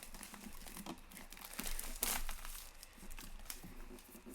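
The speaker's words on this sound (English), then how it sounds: "Taking the plastic off." Plastic wrapping crinkles and tears as it is pulled off a new Cricut Mug Press, a close run of rustling crunches with one sharper rip midway.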